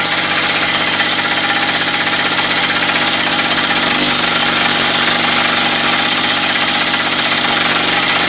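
A Mister Jumping Jack engine runs fast, giving a loud, steady, buzzing drone with rapid regular firing that holds throughout, close by and with no voices.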